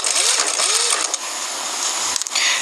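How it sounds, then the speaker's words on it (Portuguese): A sewing machine runs steadily, stitching a seam in fabric with a constant, busy whirr that briefly pauses near the end before resuming. "Só apoio e vou costurando com 1 centímetro de margem de costura"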